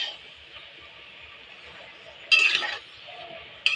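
A metal lid clanks open on a pot of taro-leaf curry and a utensil clinks against the pot as it is stirred, two bright bursts of clatter standing out over a steady low hiss.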